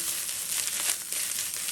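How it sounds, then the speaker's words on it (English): Pork belly burnt ends stir-fried with fried rice in a hot pan, giving a steady bright sizzle with faint scraping stirs across a short stretch. "Put the meat back in there. I want to stir fry this."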